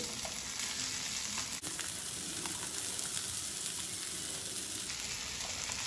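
Okra goes into a hot pan with tomatoes and fries with a loud, steady, close sizzle that runs without a break, interrupted once by a brief click.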